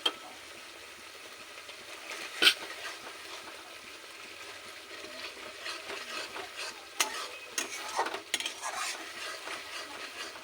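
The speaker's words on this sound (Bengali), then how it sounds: "এখন আমি মশলাটাকে ভালো করে কষিয়ে নিব।" A spice paste, salted, is stir-fried in a pan: a soft steady sizzle with scraping spatula strokes and a few sharper clinks of utensil on metal, fairly quiet and close, no talking.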